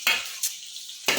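Rohu fish frying in a pan, brief bursts of sizzling and a scrape of a utensil stirring, separated by quieter gaps.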